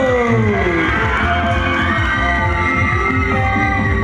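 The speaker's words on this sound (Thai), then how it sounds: "ขอเสียงกรี๊ดดังๆหน่อยเลย" A large crowd screams and cheers continuously, a dense, loud wall of shrieking voices that rises and falls without a break.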